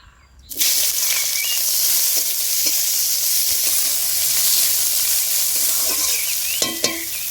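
Chopped onion and slit green chilies hit hot oil for a tilapia curry, bursting into a loud, steady sizzle that holds throughout, with faint stirring clicks near the end.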